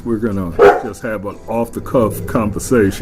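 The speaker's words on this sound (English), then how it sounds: "Excuse my dog in the background." A pet dog barks and yips intermittently in the background of a home conversation, the short bursts partly buried under steady close talking between a grandfather and his grandson.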